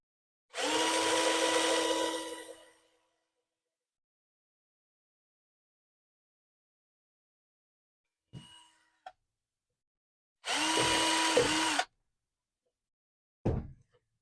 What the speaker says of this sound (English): Go over here and drill this one.